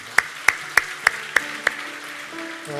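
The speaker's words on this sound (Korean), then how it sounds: "우리 다시 한번 하나님 앞에 영광과 감사의 박수 올려드리도록 하겠습니다." Applause at a Sunday church worship service, heard here as six evenly spaced, sharp claps in a steady rhythm. The claps ring with slight room reverb, and a sustained tone fades in after them.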